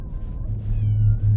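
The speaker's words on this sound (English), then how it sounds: "Oh, there's another cat." A stray cat in a video game meows in a drawn-out, wavering call that holds steady and close over a low rumbling background, with no talking.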